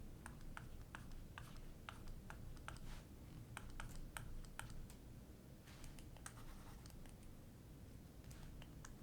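Rapid tapping and clicking of a stylus or pen writing on a screen during a math lesson, irregular bursts of light taps at close range, alone with no talk.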